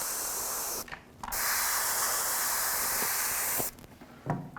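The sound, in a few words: spray paint over a stencil on a toy laser blaster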